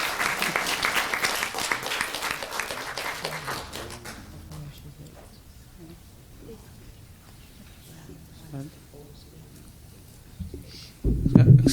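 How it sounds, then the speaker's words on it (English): Round of applause from the audience at a city council meeting, clapping fairly loud at first then thinning out, leaving quiet room noise with scattered faint voices and a louder bump at the end. "So we can give a round of applause for Abisai Mares"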